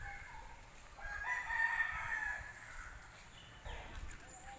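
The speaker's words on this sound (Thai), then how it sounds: "ไก่เยอะมากค่ะ" A rooster crows clearly from nearby at a temple in Chumphon, Thailand, one long call with another fainter crow following, set against soft outdoor ambience.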